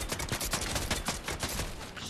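Rapid bursts of gunfire in the Fortnite video game, dense overlapping shots crackling loudly and continuously with no pause.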